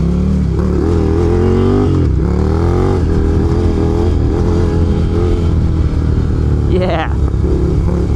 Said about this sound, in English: it's hard to go wrong with this air-cooled Desmo V-twin. It's a fantastic exhaust sound straight from the factory, but when you open it up with the pipe, it sounds so cool.